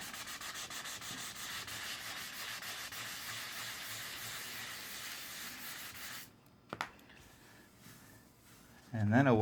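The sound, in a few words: hand sanding sealer primer with 600 grit sandpaper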